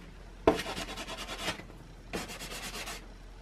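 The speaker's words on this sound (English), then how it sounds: "This needs sanding." Pastel is sanded on sanded paper in two brisk bursts of rapid rhythmic scratchy rubbing, close and fairly clear, with a short pause between them and no talk.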